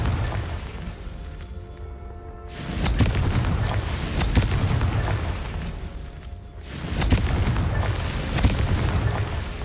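Confringo fire-blast spells cast in Hogwarts Legacy, two loud booming explosive bursts a few seconds apart, each followed by a sustained crackling rumble with no talk.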